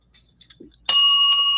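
A single bell strike rings out loud and bright after a few faint clicks, its clear metallic tone sustaining evenly to the end.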